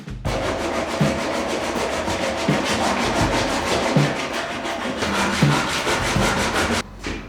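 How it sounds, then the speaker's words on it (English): Sandpaper rubbed by hand across a homemade wooden climbing hold, a steady rasping scrape in continuous back-and-forth strokes, close and loud, stopping briefly near the end. "start kind of working some magic with sandpaper"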